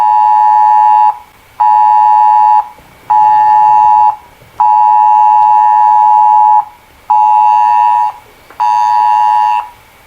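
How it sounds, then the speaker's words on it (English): A mobile phone ringtone rings loudly in a steady repeating pattern of bright electronic tones, seven bursts separated by short gaps, heard alone with no talk. "That's my phone. Sorry."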